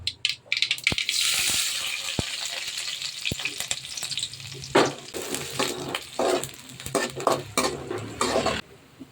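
Curry leaves and onions are tipped into hot oil with mustard seeds, and the mix sizzles and crackles loudly and steadily throughout. Stirring scrapes and pan clatter come and go over the frying.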